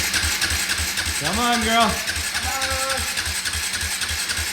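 Quad ATV engine being cranked over with the start button, a short starter whir and sputter that does not catch over a steady idling background, while a person speaks briefly.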